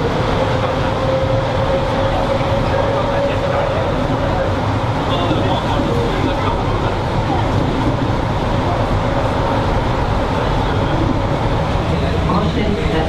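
Loud, steady rumble and rattle of a Montreal Metro train riding along, constant roar close by with faint chatter underneath.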